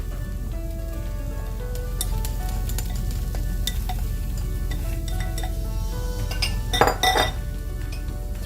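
Broccoli and onions go into a pan of cooked shrimp for egg fried rice, giving steady sizzling and frying with stirring, a few metal clinks, and a louder burst of scraping and clatter near the end.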